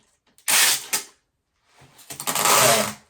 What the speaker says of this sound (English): The last thing I do is grab that tape